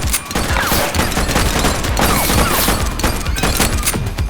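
A suspect's gunfire in the police game The Precinct rattles on as a sustained, dense volley of loud, rapid shots with little pause, packed over a busy action-game soundscape.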